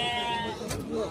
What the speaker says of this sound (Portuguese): Burreguinha novinha aí.